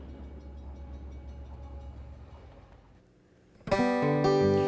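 A low rumble of a train rolls along the tracks, then a loud, sustained horn blast breaks in near the end, close and overpowering.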